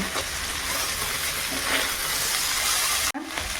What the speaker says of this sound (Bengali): এইখানে আলু আর কচুরমুখী সেদ্ধ হচ্ছে